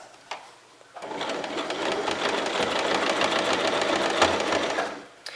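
A sewing machine runs a zigzag stitch across the bottom of a fabric basket: a loud, fast, even mechanical chatter that starts after a short pause and runs continuously, then stops near the end.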